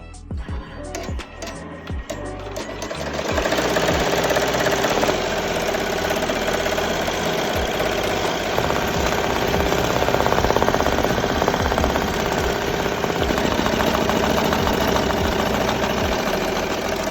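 An embroidery machine stitches a hat with neon polyester thread, producing a steady, dense mechanical chatter with rhythmic knocking that builds after a few seconds and runs on loudly and close, with no talk.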